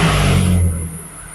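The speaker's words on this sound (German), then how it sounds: "So, also Motor ist gestartet." A Volkswagen Golf IV with the 1.6-litre 16V engine cranks and catches, a loud low rumble that settles into a quieter idle within about a second.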